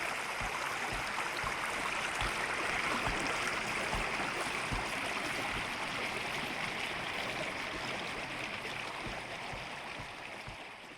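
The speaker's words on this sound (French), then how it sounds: "on est au niveau du ruisseau" A forest stream flows near a bushcraft camp, a steady rushing, gurgling wash of water, close and continuous with faint knocks underneath.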